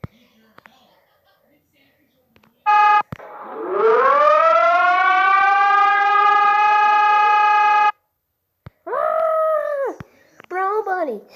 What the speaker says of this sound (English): I'm going to play the EAS from Brazil